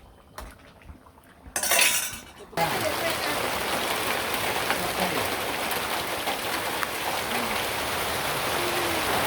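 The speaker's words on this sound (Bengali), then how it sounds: "বৃষ্টি আবরছে উর্মুর করে শব্দ দেখেন" Heavy rain pours down steadily in a dense, close hiss, following a brief stretch of quieter sounds and a short burst of noise at the start.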